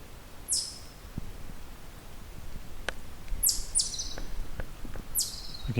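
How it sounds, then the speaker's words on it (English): A pine warbler gives a soft trill in quiet woodland, heard as a few faint, high, brief sweeping notes spaced across light background hiss, distant and with no voices. "There's our soft pine warbler song. Soft trill."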